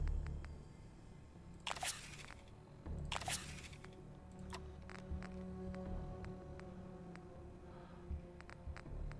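A character eats food in Fallout 4, producing two quick crunching bites followed by softer chewing and small clicks, all quiet and close.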